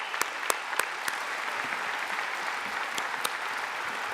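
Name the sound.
audience applause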